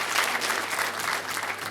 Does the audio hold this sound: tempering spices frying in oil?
no